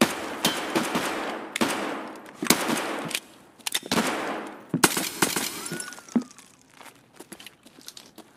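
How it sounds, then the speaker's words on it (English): Rapid gunfire bursts from a backup pistol in a first-person shooter video game, several sharp repeated shots over roughly eight seconds with clatter and crunching debris between them, no talking. "That's how you bring the backup pistol right there."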